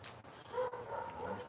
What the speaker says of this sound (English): it's the fucking dog barking